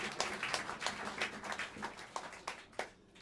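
Jazz club crowd at Smalls in New York City clapping for the guitarist, a moderate patter of applause with distinct individual claps standing out rhythmically and tapering off toward the end.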